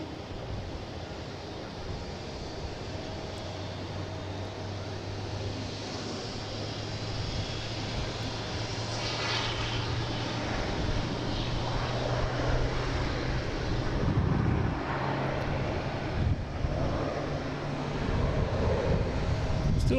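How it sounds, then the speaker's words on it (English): A WestJet airliner arrives from Calgary at Boston Logan, its engine roar swelling gradually from a distance over steady wind and surf-like background noise, growing louder toward the end. "Here's WestJet coming in from Calgary."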